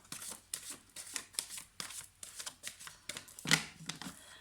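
Oracle cards being shuffled by hand, a steady run of soft papery riffles and slaps repeating roughly every half second, close and fairly quiet with no talking.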